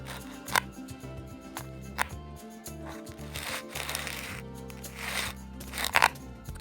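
A knife crunches through a watermelon with a red interior, giving several sharp, close crunching cuts spread over steady background music.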